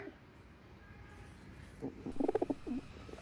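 Quiet hiss gives way halfway through to a short run of soft, low cooing from Punjabi Malwai pigeons kept in a loft, several rolling calls close together and fairly near.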